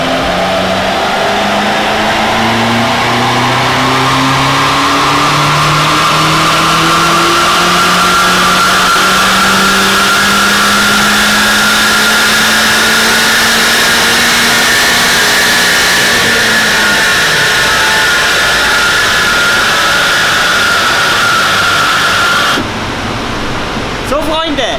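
A BMW M8 Competition with a Stage 1 tune, particulate filter retained and 200-cell race catalytic converters fitted, revs loudly and close up, its engine note rising in long sweeps before cutting off near the end.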